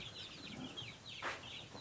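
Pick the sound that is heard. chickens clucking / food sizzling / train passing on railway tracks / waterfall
chickens clucking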